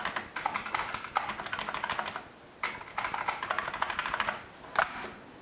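Keys on a Chonchow 5950 keyboard are pressed in quick bursts of close, crisp clacking taps, with short pauses between runs and one final louder tap. There is no speech.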